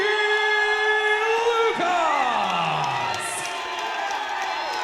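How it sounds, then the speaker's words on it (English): A boxing crowd at a ring announcement cheers and boos loudly, with one side supporting each fighter in a mass of voices and whoops that fades slightly toward the end. "You can hear one set of people cheering for one and booing for the other"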